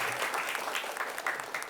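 A dense, continuous patter of applause comes from the audience teams at a televised school quiz show, moderately loud and steady with no voices over it.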